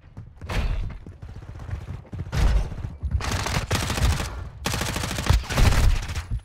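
Rapid pistol fire in Call of Duty: Modern Warfare II (2022), dense crackling bursts of quick shots in several loud volleys, close and sharp, with brief gaps between strings of fire.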